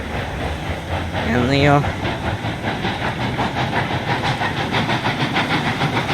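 A train engine in the video game Railroads Online: a steady rhythmic chuffing and hissing, with a brief whistle-like tonal sweep early on, while a person talks over it.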